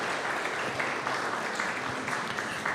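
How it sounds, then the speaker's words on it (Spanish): A crowd applauds a young volleyball player being introduced at a women's club team presentation, steady dense clapping throughout at moderate level, heard alone without talk. "Fuerte el aplauso, por favor, para Keila."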